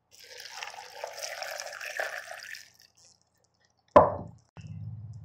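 Water poured while mixing a homemade cocktail with mango, apple, dates and ice cubes: a long trickling pour that stops, then a sharp clink and a brief low splash near the end.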